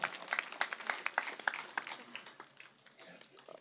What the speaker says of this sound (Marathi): तिच्यासाठी जोरात टाळ्या वाजवा.